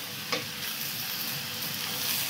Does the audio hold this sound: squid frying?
yes